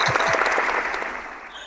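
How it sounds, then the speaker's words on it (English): A small studio audience on the Gold Coast claps after a TV interview, a dense continuous round of applause that fades slightly toward the end. "big round of applause from our audience"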